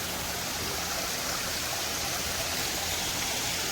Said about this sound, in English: Look at this trickling stream.